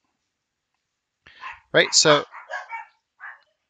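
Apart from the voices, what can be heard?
dogs barking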